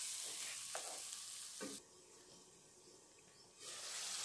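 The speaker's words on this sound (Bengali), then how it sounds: "এখন আমি এভাবে কষিয়ে রান্না করে নিচ্ছি" Beef for haleem stir-frying in a pan, a broad steady sizzle with stirring noises that drops quieter for a couple of seconds, then swells back.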